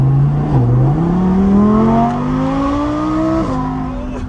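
An Audi R8 supercar engine revs hard toward about 9,000 rpm, its pitch climbing steadily, dipping briefly at a gear change, then rising again; loud and close.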